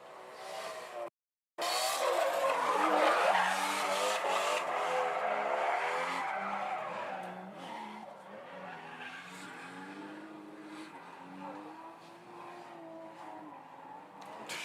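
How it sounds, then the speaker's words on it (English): A drift car at a Formula Drift ProAm competition skids with a long, loud tire squeal and a wavering, revving engine, sustained for several seconds before gradually easing off. "let's let Junior let his car sing"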